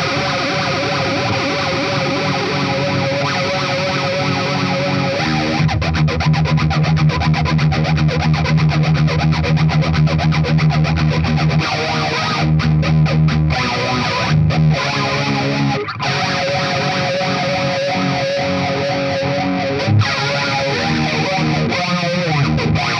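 An electric guitar runs through a Sonicake Warped Dimension four-mode modulation pedal, giving a swirling chorus-like, warbling tone with pulsing vibrato sections and distorted edges, played continuously without talk.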